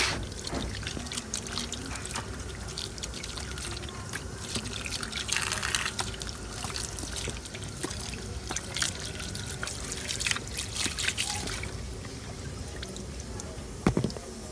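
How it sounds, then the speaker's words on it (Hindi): Water runs and splashes steadily for several seconds with scattered drips and clatter as a peeled pumpkin is rinsed under a tap nearby. "अब इसको पानी से अच्छी तरह धो लेंगे।"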